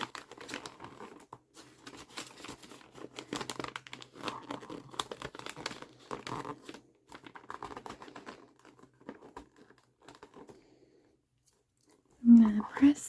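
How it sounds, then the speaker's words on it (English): Wrapping paper crinkles and rustles close up as it is trimmed and folded around a gift, with soft scattered handling sounds in bursts and a louder crinkle near the end, under quiet soft-spoken talk. "So I just trimmed a little bit off of this side, and then I'm hoping that that kind of makes this folding part a little bit easier."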